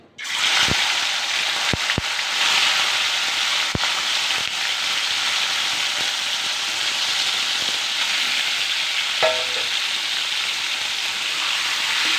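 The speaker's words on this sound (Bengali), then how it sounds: "এখন মাংসটা দিয়ে দিব।" Salted meat goes into a pan of hot oil after potatoes were fried, setting off a constant loud sizzle and hiss, with a few sharp clicks and pan knocks scattered through.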